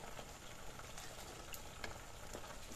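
Chicken curry with potatoes bubbles uncovered in a pot, a quiet, continuous sizzling simmer broken by a few soft pops.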